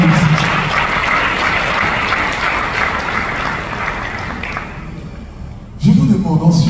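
Audience applause at a francophone ambassadors' gathering in Paris, a steady wash of clapping from a crowd that runs on at an even level, then fades slightly before a voice begins speaking near the end.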